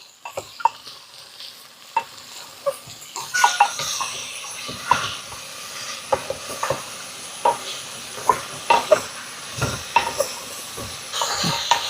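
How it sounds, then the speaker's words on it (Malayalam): A spoon stirs vegetable pieces for a curry in a sizzling pan, giving steady scraping strokes and sharp metallic taps against the pan over a constant soft frying hiss, with no talk. "1 മിനിറ്റ് നന്നായിട്ടൊന്ന് ഇളക്കി കൊടുക്കാം കേട്ടോ."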